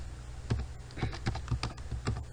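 Rhythmic typing on a computer keyboard while entering text into a Bootstrap 4 web page, with about five evenly spaced key clacks over a steady low hum, close and moderately loud, no talking.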